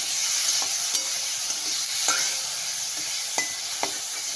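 Eggplant frying in a pan with salt, a constant bright sizzle with a few sharp scrapes and taps of a spoon stirring, close and unbroken, no voices.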